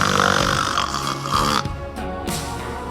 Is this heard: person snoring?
yes